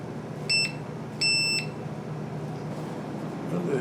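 A Bluetooth clamp meter's diode tester gives two short, clear electronic beeps close by, over a low steady background hum.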